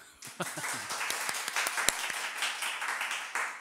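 A church congregation at Haim Church's summer Bible conference gives a modest round of welcoming applause for the preaching pastor, with scattered, uneven claps that stay fairly thin and continue without speech.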